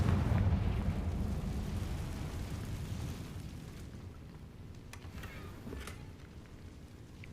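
A Confringo fire spell blast in the Hogwarts Legacy video game: a loud, rumbling burst that decays into a long, noisy, crackling tail, with a few faint sharp pops later on.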